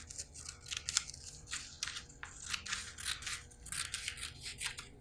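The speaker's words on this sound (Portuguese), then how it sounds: "Peguem a tesoura e cortem." Scissors snip through paper to cut out triangular pieces for a fifth-grade maths lesson, a close series of crisp, irregular cutting crunches with brief pauses between strokes and no talking.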